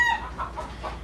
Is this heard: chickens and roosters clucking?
yes